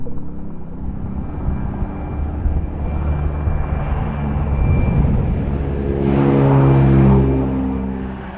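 A Transall military transport aircraft in Mali rumbles loudly and close, its engines drone steadily, then swell to a deeper, louder roar before easing slightly.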